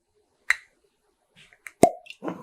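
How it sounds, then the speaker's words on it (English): A cork pulls from a bottle of Russell's Reserve 13 bourbon, a sharp hollow pop preceded by a softer squeak and followed by faint clinks and rustles. "Oh, really hearty cork pop on that."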